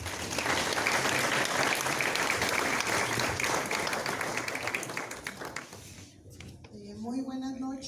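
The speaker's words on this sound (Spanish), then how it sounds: "les pido un aplauso para quienes están aquí en la mesa." An audience at a book presentation on coconut wine in New Spain, held in a municipal historical archive house, gives dense, sustained applause that fades after about six seconds as a voice begins speaking.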